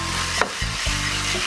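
Fried potato and other japchae ingredients stirred in a hot pan: a brief scrape and clatter of a utensil over a continuous sizzle, close up, with no voices.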